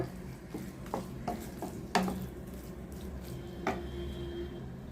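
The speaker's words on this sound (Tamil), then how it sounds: "நல்லா ஒரு ஸ்மாஷர் வச்சு கொஞ்சம் மசிச்சு கொடுத்துருங்க" Soft squishy thuds and scrapes as a masher presses into cooked vegetables for pav bhaji, a few irregular strokes close by in a quiet kitchen.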